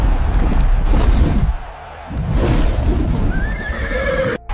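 A horse whinnies over a dense, rumbling backdrop of noise, with a rising neigh near the end of the short burst, loud and close.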